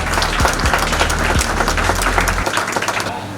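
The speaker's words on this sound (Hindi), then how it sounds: "तालियां बजाते रहिए आप लोग।" Audience applause at a teachers' organisation event in Patna honouring a Bihar state minister, with dense sustained clapping from a large crowd that cuts off sharply near the end.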